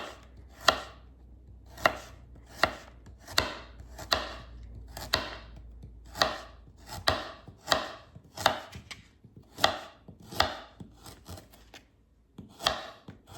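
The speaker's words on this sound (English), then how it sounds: "I then cut the carrots up in small pieces." Knife chopping carrots into small pieces on a cutting board, a steady series of about fifteen crisp close thuds at a regular unhurried rhythm, with no talking.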